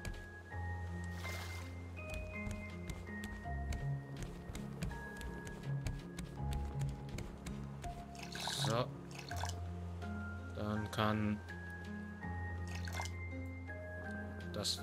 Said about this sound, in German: Machen wir vielleicht hier noch mal mit Wasser voll.